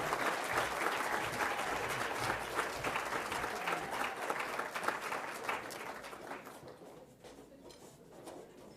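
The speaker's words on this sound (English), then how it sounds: "Thank you for that humble smattering of applause" A modest smattering of audience applause at a film editors' awards ceremony, continuous scattered clapping that thins and fades toward the end.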